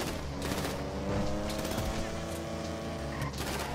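Gunfire in the video game Grand Theft Auto V, rapid bursts of shots over a continuous dense mix of game engine noise and sound effects, steady and moderately loud, with voices talking over it.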